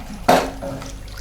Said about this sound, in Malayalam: മിക്സാക്കി കഴിഞ്ഞിട്ട് അതിൽ കുറച്ച് വെള്ളം ഒഴിക്കുക.